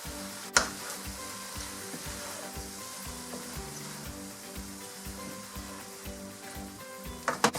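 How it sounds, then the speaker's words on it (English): Noodles go into a sizzling stir-fry pan, a continuous close hiss and crackle with rhythmic stirring scrapes and a couple of sharp clanks, no talking. "so we are ready to add our noodles"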